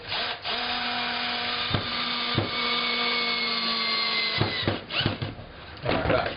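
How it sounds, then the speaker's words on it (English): A power drill boring a pilot hole for a screw in a DIY kick drum pedal bracket, a steady close whine with brief dips as it starts and stops, no talking. "Drill another bit of a pilot hole"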